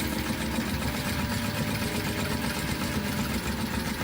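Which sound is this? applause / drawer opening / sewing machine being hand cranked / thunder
sewing machine being hand cranked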